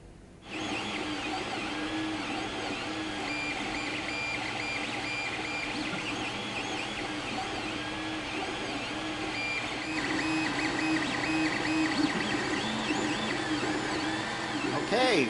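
An Ender 3 3D printer running at 0.05 mm layer height, its stepper motors whining and warbling in continuous, shifting tones, steady and close, slightly louder toward the end.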